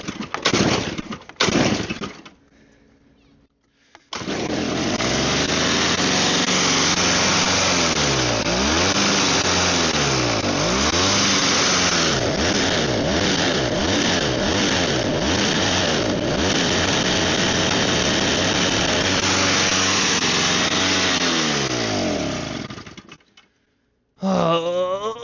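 A small snow blower engine starts after a few sputtering attempts, then runs and repeatedly revs up and down in rising and falling sweeps before cutting out, loud and close, with a brief restart at the end.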